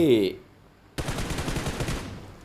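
Gunfire in PUBG Mobile, a rapid burst of automatic shots that starts abruptly after a brief voice and a short lull, then continues dense and loud for over a second.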